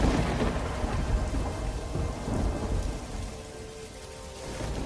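Heavy rain pours down steadily in a rural farming setting while low thunder rumbles swell and fade beneath it, a dense continuous roar with no voices.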